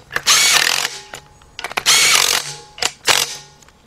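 A power tool tightens nuts during engine removal work on a 2006 Kia Sportage with a 2.7 engine, sounding in three loud whirring bursts separated by brief pauses and clicks, close to the microphone.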